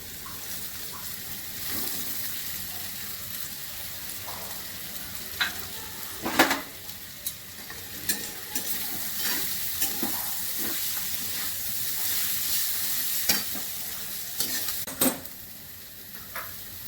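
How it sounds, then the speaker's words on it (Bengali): Boiled chow mein noodles, coated in a little white oil, stir-fried in a pan for egg chow mein: a steady hiss of frying with repeated scraping and clacking of the spatula against the pan, the louder knocks scattered and irregular. "এবার আমি চাউমিন দিয়ে দিচ্ছি।"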